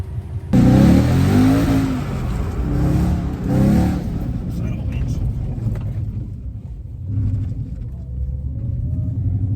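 A car with a welded differential spins out, its engine revving hard and rumbling up close, then easing into a lower idle drone as someone talks over it.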